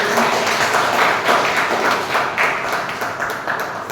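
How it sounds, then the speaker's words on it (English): Members at a Toastmasters club meeting give a round of applause for new members, a steady, close, dense patter of many hands clapping that continues for the whole few seconds. "Can we have a round of applause?"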